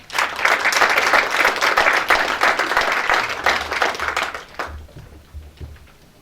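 Lecture audience applauding as Justice Robert McDougall comes to the lectern, brisk dense clapping for about four seconds that thins to a few scattered claps, with footsteps or a low voice at the end.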